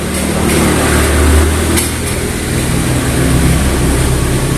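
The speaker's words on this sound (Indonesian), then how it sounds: "ada suara motor guys." Motorcycle passing outside, a steady low engine drone with a slight swell midway, heard from indoors and fairly loud throughout.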